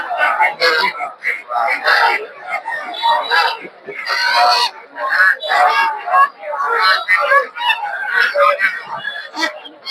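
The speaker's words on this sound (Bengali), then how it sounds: "এখানেও দেখতে পাচ্ছেন অনেকগুলো হাঁস" A crowd of ducks at a poultry market in Putia bazar, Narsingdi, honks and quacks loudly and continuously in overlapping bursts, with people's voices mixed into the din.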